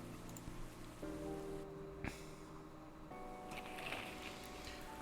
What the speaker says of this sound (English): I love the rain sound effects